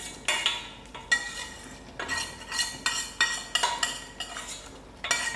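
A spoon stirring sour herb dal made with kanji keerai greens in a metal pot, a steady run of clinking scrapes and taps against the pot's side, close and fairly loud with no talking.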